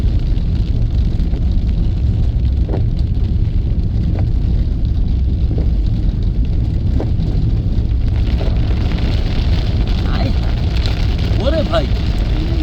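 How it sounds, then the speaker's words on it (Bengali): Heavy, steady rain pours down in the Radhanagar area, a loud, dense roar that holds unbroken from start to end, with faint voices buried beneath it near the close. "আমরা আছি খুব ভয়ঙ্কর বৃষ্টির কবলে।"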